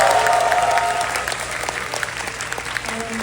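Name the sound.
audience applause for fans at festival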